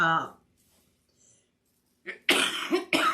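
A short vocal sound at the start, then after a pause a burst of harsh, breathy coughs, loud and close, two or three in quick succession.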